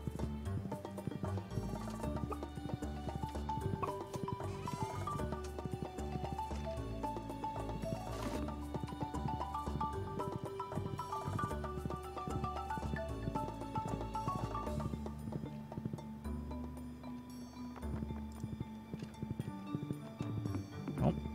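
Horse hooves clip-clop steadily in the Stardew Valley farming game, a soft rhythmic patter running under busy background music throughout.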